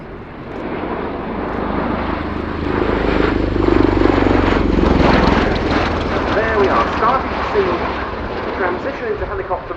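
A CV-22B Osprey tiltrotor at an air show, its engines and huge propellers producing a loud, swelling rumble and drone that builds and holds, heard at a distance while an announcer talks over it.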